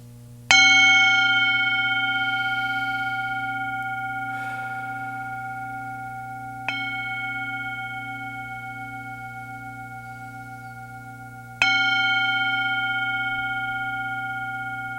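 Three separate bell strikes ring out at spaced intervals, each clear metallic tone sounding alone and decaying slowly over a low steady hum.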